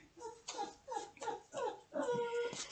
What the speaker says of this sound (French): c'est mon chien qui fait encore le bruit